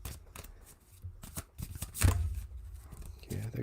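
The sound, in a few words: shuffling playing cards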